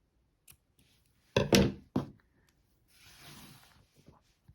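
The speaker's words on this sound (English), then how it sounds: "I think I need to trim a little bit around the edges, so I'm just going to do that." Scissors trim the edges of a crocheted amigurumi eye piece, with a few close, crisp snips followed by a soft rustle of yarn being handled in a quiet room.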